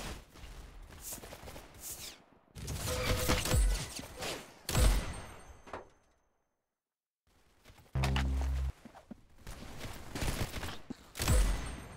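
Roblox Arsenal gunfire comes in dense bursts of rapid shots with clanking game effects. The bursts are separated by a near-silent gap partway through.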